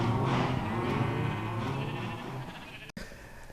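Cows and chickens on a Minecraft server, moderately loud animal calls with a bleating, lowing quality, overlapping briefly before a sudden cut.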